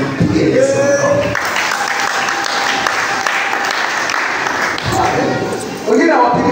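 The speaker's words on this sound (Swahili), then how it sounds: "Pigia Yesu makofi" A church congregation bursts into sustained, loud clapping and cheering in praise of Jesus, with a rhythmic clatter of hands and voices mixed in the crowd noise.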